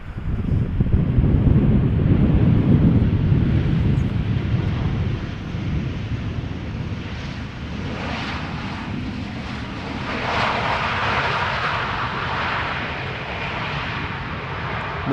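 A jet airliner rumbles as it arrives at Amsterdam Schiphol Airport, loudest early on and then fading to a steady distant roar. Wind buffets the microphone outdoors, and no one talks.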